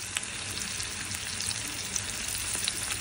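Garlic and shrimp fry in butter in a pan, giving a steady, close sizzle and crackle with small pops scattered throughout, and no talking.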